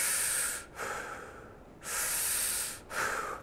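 Chest breathing is demonstrated with two deep, close breaths, each an audible airy exhale and inhale through the nose, separated by a brief quiet pause.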